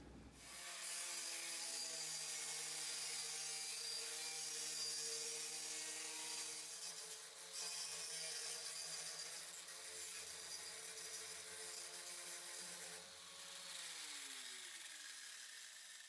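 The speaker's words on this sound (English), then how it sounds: "we still needed to grind off the remaining pipe of the handrail" An angle grinder cuts away the leftover steel pipe of a handrail on a spiral staircase in a tiny arched cabin build, a loud, steady metallic whine holding for about sixteen seconds with slight dips in pitch as pressure shifts.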